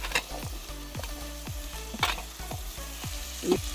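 Shallots fry in oil in a clay pot for a traditional fenugreek kuzhambu, a close, steady sizzle broken by regular scraping stir strokes roughly every half second, with no voices.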